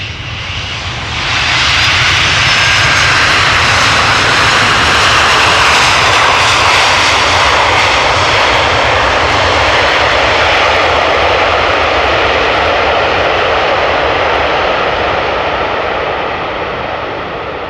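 A fixed-wing airliner landing at Amsterdam Schiphol Airport makes a loud, sustained engine roar that swells in within the first two seconds and holds steady, close by, with no talk.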